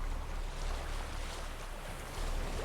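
Sailing across open sea in The Witcher 3: a steady, soft roar of water and wind around a moving boat, gently swelling and easing, with no voices.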